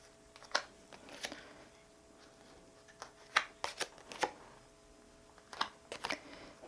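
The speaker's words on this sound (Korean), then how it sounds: "네, 제가 4장의 카드를 뽑아 보겠습니다." Cards drawn from a deck one after another give soft, crisp snaps and slides in scattered clusters, close and quiet with no talking.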